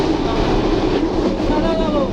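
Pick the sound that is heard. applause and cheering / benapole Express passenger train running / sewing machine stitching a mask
benapole Express passenger train running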